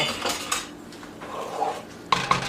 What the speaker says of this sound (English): I think I might actually use my whisk for this to really mix it well